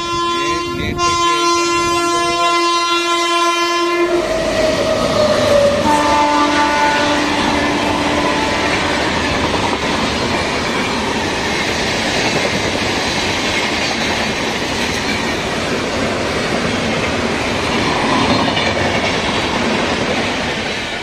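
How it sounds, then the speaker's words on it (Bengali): A train horn blares for a few seconds, then a loud, steady rumble of rolling wagons rattles past close by. "এরকম ট্রেন এলে।"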